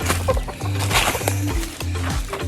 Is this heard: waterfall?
no